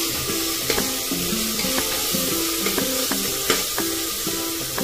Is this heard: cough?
no